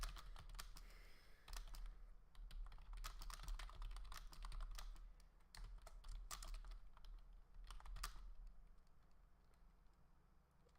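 Someone types a chat message on a computer keyboard, a close, rapid patter of key clicks in quick runs with brief pauses, over a low steady hum.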